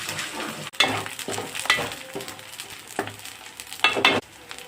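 Curry leaves and tamarind leaves frying with boneless chicken in a pan, a loud close sizzle with repeated bursts of stirring and spatula scrapes.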